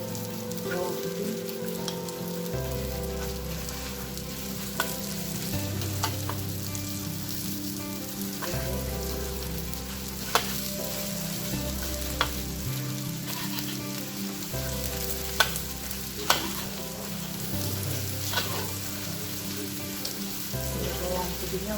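Garlic sizzles steadily in a hot pan while being stirred, a continuous crackling fry with occasional spatula taps, alongside a low, periodic humming background.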